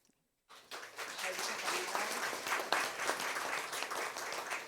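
A congregation at an end-of-semester chapel service at a Korean theological institute breaks into applause after a moment of silence, a full, sustained wave of clapping that stays steady to the end.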